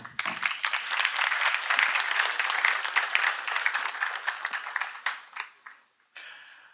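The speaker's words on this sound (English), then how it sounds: "Let's clap." Conference audience after a talk on event-driven service discovery breaks into dense applause that builds, holds for about five seconds, then thins to a few scattered claps.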